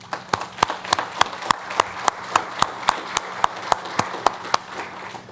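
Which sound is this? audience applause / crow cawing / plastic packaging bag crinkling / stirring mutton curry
audience applause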